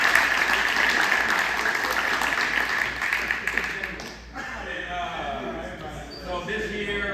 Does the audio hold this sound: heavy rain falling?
no